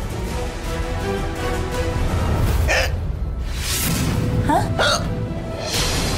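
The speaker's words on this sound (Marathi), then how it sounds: "तुला उचकी येते म्हणजे संकट येणार आहे" Two sharp, sudden hiccups in a Marathi TV drama scene, each a brief gasping burst that stands out over steady background music and room tone.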